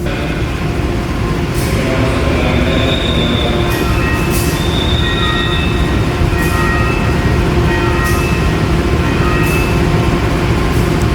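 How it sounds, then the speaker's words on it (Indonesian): Jayakarta passenger train pulling into Mojokerto station on platform track four, a loud continuous rumble of wheels and cars with repeated high squeals and clanks as it slows. "Kereta api Jakarta masuk di jalur nomor 4."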